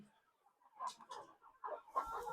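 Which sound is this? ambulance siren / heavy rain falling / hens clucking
hens clucking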